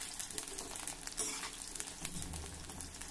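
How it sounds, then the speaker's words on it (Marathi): Eggplant slices frying in hot oil over a medium flame, a steady close sizzle with light crackling that continues on its own without talk. "हे वांग्याचे काप देखील तळून घेऊया।"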